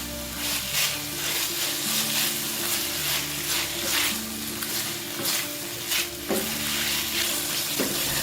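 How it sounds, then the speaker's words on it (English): Chicken, French beans and potato stir-frying in a pan, a steady loud sizzle with repeated scraping and clanking of the spatula against the metal across the whole stretch, with no voices. "Chicken, French beans and potato stir-fry"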